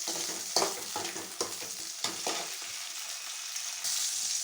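Green chillies frying in a pan for a mint, coriander and tomato chutney, a steady close sizzle broken by repeated scraping stirs of a spatula, with no talk.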